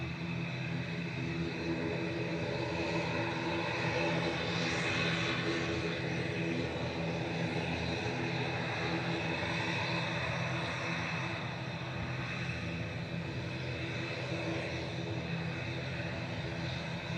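Aer Lingus Regional ATR 72-600 turboprop, registration EI-FSL, at Manchester Airport, giving a steady, loud, continuous engine roar with a broad propeller drone that holds through the whole stretch, no talk over it.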